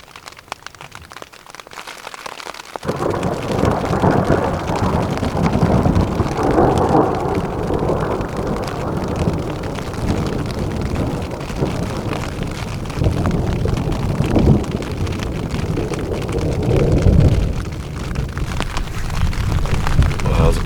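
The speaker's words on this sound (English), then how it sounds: "About to go to bed and then this thunderstorm rolled in." A thunderstorm rolls in over a high-elevation backcountry campsite at about 10,000 feet, with steady heavy rain and deep rumbling thunder swelling and fading after a quiet start, loud and close throughout.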